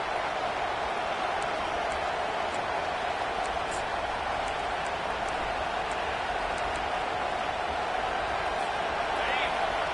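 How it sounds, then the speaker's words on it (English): A stadium crowd roars continuously during a college football game, a dense, sustained wash of noise with a broadcaster's voice over it. "Listen to this crowd just shaking the girders of this place, trying to help their defense."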